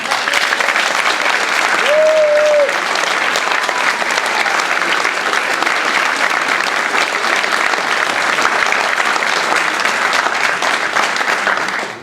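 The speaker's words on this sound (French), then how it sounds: "je voudrais que vous l'applaudissiez, Aurélien Levent." A crowd at a French regional election campaign speech in Mantes-la-Ville applauds loudly and continuously for about twelve seconds, a dense steady wash of clapping that fades at the very end.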